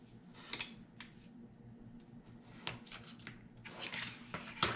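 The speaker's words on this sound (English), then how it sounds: "we are going to angle cut on both sides of that. So we're going to cut out a V just like that" Scissors snip an angled V notch into card stock for a gift card holder, a few short crisp cuts spaced apart at close range, fairly quiet with no talking.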